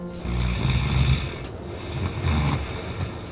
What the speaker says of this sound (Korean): 잠이 들기 무섭게 시작되는 코골이.